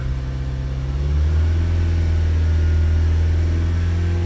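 A 2016–2017 Ford Transit 2.2 diesel van engine held at about 2,500–3,000 RPM during a DPF clean, a steady loud droning hum that rises slightly after the first second and then holds.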